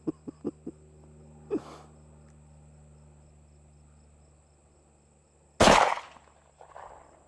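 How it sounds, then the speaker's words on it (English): Hi-Point pistol fired at a shooting range: a loud close gunshot with a fast decay late in the clip, preceded by a quick series of faint clicks and a softer thump over steady background hum. "Think it shoots a little high."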